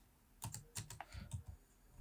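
Quick bursts of keystrokes come from typing on a computer keyboard into Google Sheets, giving about half a dozen crisp clicks close by. The sounds are quiet and no voices are heard.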